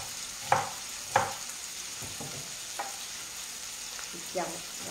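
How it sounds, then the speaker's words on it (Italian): Chopped onion and sausage sizzling in a frying pan with a steady hiss, broken by a few clanks and scrapes of stirring, close by with no talk. "Mettiamo la cipolla insieme alla nostra salsiccetta. Facciamo rosolare per benino."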